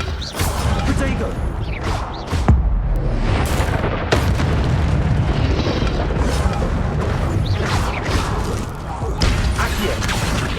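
Spell explosions in Hogwarts Legacy, with repeated booms, bursts and crashes layered over busy game noise, loud and continuous throughout.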